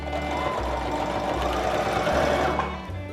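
A sewing machine stitches backward over a seam on a fabric pillow, a steady mechanical whir running continuously and close, with no voices.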